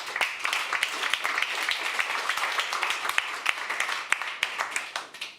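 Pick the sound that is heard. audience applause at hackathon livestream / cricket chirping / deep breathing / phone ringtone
audience applause at hackathon livestream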